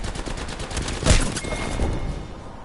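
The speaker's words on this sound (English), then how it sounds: "Shot fired, and they're hitting me. Firing." Gunfire in Apex Legends: a rapid burst of shots up front, then a heavier, louder blast near the middle, with the crackle of fire trailing off toward the end. Close and loud, with no talking.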